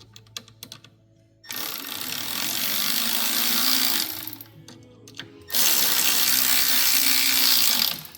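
Ratchet tightening the windshield clamps on a Polaris Pro R 4 ATV, close and loud, in two long runs of rapid back-and-forth clicking separated by softer handling noises.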